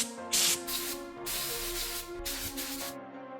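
Bursts of ceramic coating hissing from an aerosol can onto an exhaust manifold, several sustained sprays with brief pauses between them, close to the listener.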